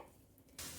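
A brief crackling sizzle bursts in after a quiet moment, dry poha grains rustling and scraping as they are stirred and roasted in a hot wok.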